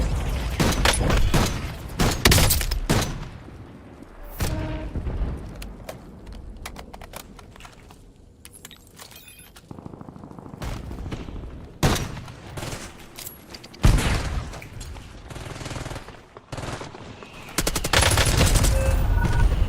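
Video game gun firing in repeated loud rapid bursts separated by quieter gaps, a clattering automatic rattle coming and going across the stretch.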